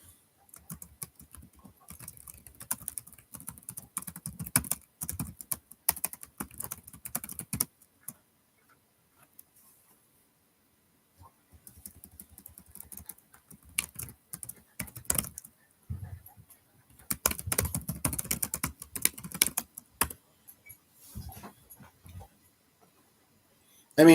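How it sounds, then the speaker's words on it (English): Typing on a computer keyboard in a home room, quiet clattering bursts of keystrokes with long silent gaps between them, faint and close. "I'm just going to type here."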